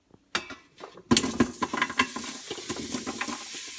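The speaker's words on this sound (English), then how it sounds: "I'm gonna go ahead and turn it off because I can hear it sizzling." Onions, carrots and sweet potatoes sizzle in an Instant Pot, a steady crackling hiss that starts after a couple of clinks and a stir. It is close and moderately loud, with scattered utensil scrapes and no talking.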